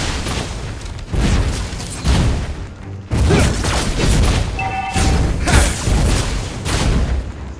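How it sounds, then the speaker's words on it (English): A turret destroyed in the Mobile Legends video game brings heavy booming explosion effects that burst repeatedly in loud thumping waves, layered with game sound effects and a short chiming tone. "Your team destroyed a turret."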